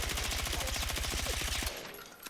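M433 rifle firing in the video game Battlefield 6, a rapid, evenly spaced burst of about twenty shots that stops abruptly, leaving a fading tail.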